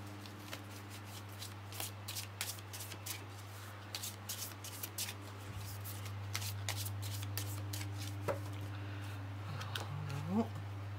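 Tarot cards being shuffled by hand, a dense run of quick riffling snaps and soft slides over a steady low electrical hum, close and continuous throughout.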